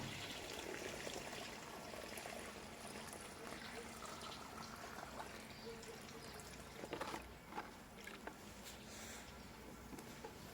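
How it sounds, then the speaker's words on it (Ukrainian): Water from a bucket pours and trickles steadily into a planting hole in the ground, with a few faint knocks near the end. "Тим часом ми заливаємо друге відро."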